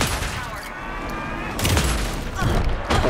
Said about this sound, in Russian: Андерсон, задержи его с помощью пушки, чтобы я направил на него свет.